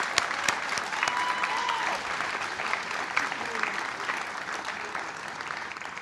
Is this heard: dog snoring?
no